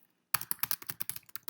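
Someone types quickly on a computer keyboard, producing about a dozen crisp, close keystrokes in an uneven rapid rhythm after a brief silent start.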